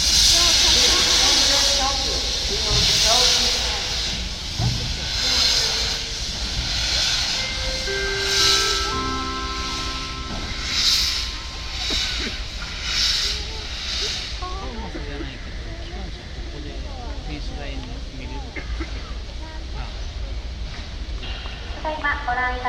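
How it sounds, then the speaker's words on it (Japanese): JNR Class C56 steam locomotive, number 165, on display at the Kyoto Railway Museum, giving off a steady hiss of steam that runs close and loud throughout, with a museum announcement voice talking over it. "ただいまご覧いただいております蒸気機関車は通称456と呼ばれています C56 型165機です"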